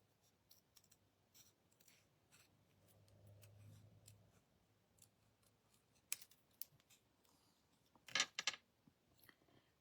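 Small craft scissors snipping around the branches and berries of a stamped paper image: quiet, sparse little cuts and clicks, with a couple of sharper snips near the end and no talking.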